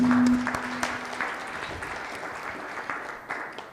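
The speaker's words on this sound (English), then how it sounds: "Let's give them a big hand of applause." A conference audience at a quality improvement leadership forum claps in a sustained round of applause, dense and even, loudest at the start and tapering slightly, with only faint traces of voice.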